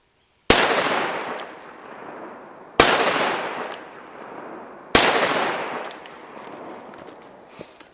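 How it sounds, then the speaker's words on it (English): A Taurus Judge revolver fires three loud, close shots at a 10-foot target, evenly spaced about two seconds apart, each sharp crack trailing off in a short echo. "Let's shoot at 10 feet again"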